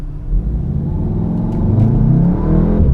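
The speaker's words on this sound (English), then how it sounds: "The turbo kicked in really hard." A VW Golf R accelerating hard from a rolling start onto a highway, turbo coming on, producing a loud, steady rising engine drone and rumble heard from inside the car, with no talking.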